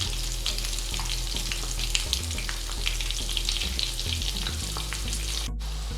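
Vegetable bird nest snacks fry in hot oil, giving a dense, continuous bubbling sizzle throughout, with a faint low hum underneath and a brief dropout near the end.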